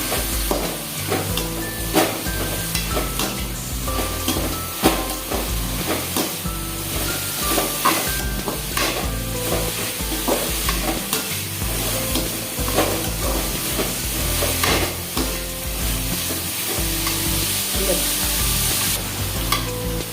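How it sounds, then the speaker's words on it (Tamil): Chopped cabbage, beans and carrot stir-fry in a hot pan for a Tamil kalan dish, a loud continuous sizzle and crackle with spatula scrapes running throughout, no voices. "கோஸு, பீன்ஸு, கேரட்டு எல்லாத்தையும் சேர்த்துக்கலாங்க. சேர்த்துட்டு நல்லா கிளறி வச்சுக்கலாங்க."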